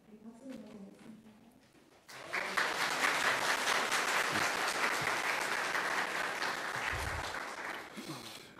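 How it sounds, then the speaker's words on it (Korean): Applause from a church congregation welcoming a visiting pastor, which rises suddenly after quiet speech and continues as steady, fairly close clapping before fading, with a voice heard near the end. "박수를 보내겠습니다."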